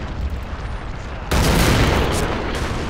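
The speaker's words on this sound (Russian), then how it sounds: "О, нормально там артиллерия." Artillery fire in Men of War: Assault Squad 2, set in the 1942 Battle of Stalingrad: a heavy boom midway swells a continuous rumble of distant battle noise.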